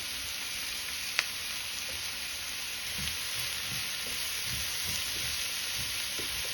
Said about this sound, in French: je laisse bien cuire ma courgette